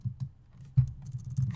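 A few quick keystrokes on a Mac computer keyboard, soft close clicks in an uneven short burst with a brief pause in the middle.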